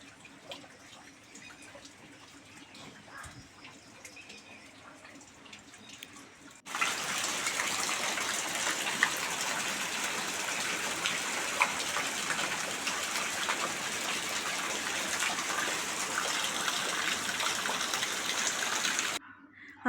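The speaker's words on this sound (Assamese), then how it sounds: "বৰষুণ এনেকুৱা ধৰি থাকিলে দিগদাৰে লাগে" Heavy rain begins as a quiet patter, then jumps to a loud, steady, hissing downpour that holds without a break before cutting off abruptly near the end.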